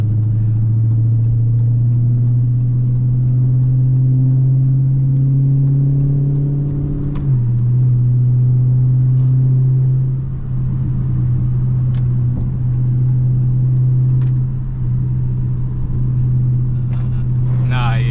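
A Dodge Daytona Scat Pack 392 V8 roars continuously from inside the cabin, a deep rumble rising as it accelerates, with a brief drop at a gear change midway and people talking over it.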